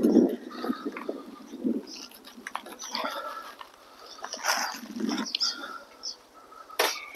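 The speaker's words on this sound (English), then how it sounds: "You'll have to excuse the wind noise as well." Gusty wind buffets a microphone up on a drafty roof where new wood has been installed, coming in uneven rumbling bursts and swells with brief lulls, loud and close throughout.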